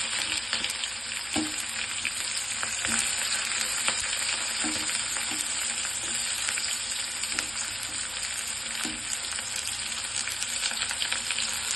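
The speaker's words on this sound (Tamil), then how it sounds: "வெங்காயம் போட்டாச்சு. எல்லாத்தையும் நல்லா வதக்கலாம்." Onions sizzle with mustard seeds and garlic in a hot pan for an okra stir-fry. A continuous loud crackling fry runs throughout, with occasional soft pops and stirring clinks.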